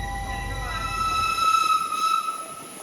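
An antique steam train rolls along the rails, heard from inside the first car. Wheels rumble low while high metallic squeals and whines ring out over the running noise.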